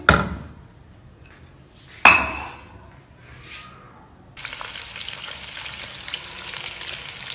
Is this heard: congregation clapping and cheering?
no